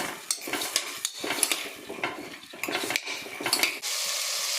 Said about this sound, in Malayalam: അപ്പം നമുക്കിത് രണ്ടും നെയ്യിലൊന്ന് കുറച്ച് നേരം വറുക്കണം